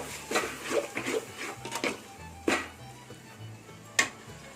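Ginger garlic paste stirred in a pan for mutton biryani, with irregular metallic clinks and scrapes of a utensil against the pan, sharp taps standing out over low background noise.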